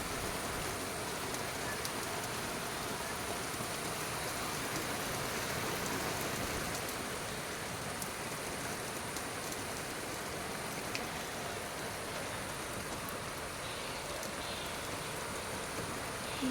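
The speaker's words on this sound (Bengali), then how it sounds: "দেখুন গাইস, অনেক জোরে বৃষ্টি চলে এলো।" Heavy rain pouring outdoors on a hot day, a dense, continuous hiss of drops on surfaces that holds steady and fairly loud throughout with no voices.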